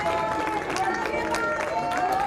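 An audience at a congressional hearing applauds in a standing ovation, a brief dense patter of clapping mixed with murmuring voices.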